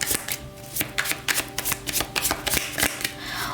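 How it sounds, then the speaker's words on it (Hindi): Tarot cards being shuffled by hand, a run of crisp riffling snaps and slaps in an irregular rhythm, close and fairly loud, with no talking. "शफल करते हैं कार्ड्स को।"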